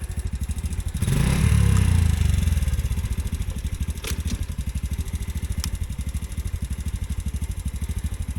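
A Can-Am DS90X ATV engine cranks on the electric starter, catches with a loud burst of revving, then settles into a steady, rapid, chugging idle up close. A few sharp clicks sound over the idle.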